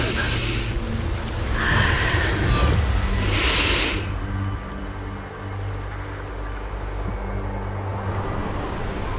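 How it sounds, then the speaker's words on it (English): Gusting wind in the video game Zenless Zone Zero rushes in a few strong, breathy surges, then settles into a steadier, lower whoosh with a faint rumbling undertone. "The wind. It's shifting."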